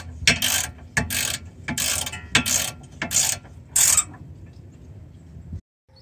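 Six or seven sharp ratchet bursts ring out one after another, close and clear, as a ratchet tightens the rear brake caliper bolts on a 2008 Mazda 3, followed by a brief stillness.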